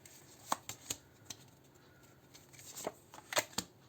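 Tarot cards are handled and flicked close up, with a series of quiet, sharp snaps and shuffling sounds at irregular intervals.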